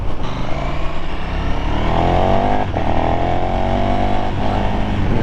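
A KTM Super Duke 1290 R motorcycle engine growls loudly up close while riding, revving with rising pitch and a brief shift dip midway, steady and strong throughout.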